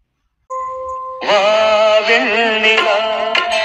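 A mobile phone ringtone plays a loud, tuneful melody that starts after a short pair of steady tones and keeps ringing alone without pause.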